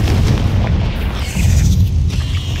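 Confringo fire-spell blasts in the Hogwarts Legacy video game erupt in a loud, continuous roar of booming explosions that rumble heavily and fill the whole stretch without a break.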